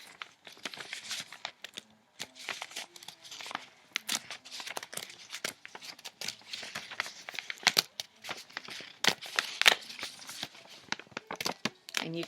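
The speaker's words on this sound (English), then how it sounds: "And you can hear it as I'm tearing that paper." Paper is torn by hand to free a cut-out shape, giving quiet, irregular ripping and crinkling bursts with short pauses between them, close up and alone.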